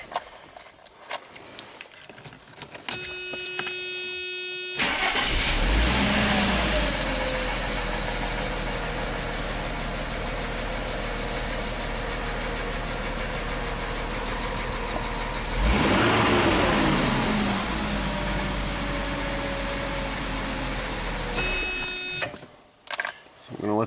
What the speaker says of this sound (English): let's see how this beast fires up